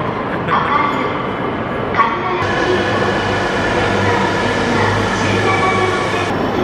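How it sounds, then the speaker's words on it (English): A Shinkansen bullet train carries passengers in Japan toward Takasaki, its steady loud interior rumble and electric hum running continuously, with a few brief tonal shifts and faint voices in the background. "Taking the Shinkansen to uh, Takasaki."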